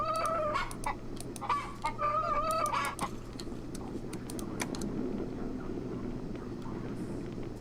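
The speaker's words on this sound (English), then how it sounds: "Yep, the rooster's right here." A rooster crows and clucks in the Yes, Your Grace video game, with several harmonic calls in the first three seconds over a steady low hum and background game ambience.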